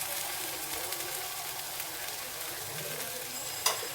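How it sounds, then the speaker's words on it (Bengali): Mustard paste fries in a pan for a fish curry, giving a steady close sizzle with faint stirring scrapes and one brief sharp clatter near the end. "সর্ষে বাটাটা একটু ভাজা ভাজা করে নিই"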